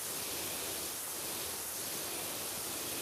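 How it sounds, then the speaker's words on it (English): Steady broadband hiss of a pressure washer jet spraying in PowerWash Simulator 2, continuous and loud for the whole span with no pauses. "Alright, we're gonna spray this off here."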